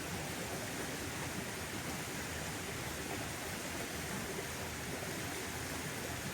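Flowing stream water outdoors, a continuous even rushing wash that stays close and steady throughout with no voices.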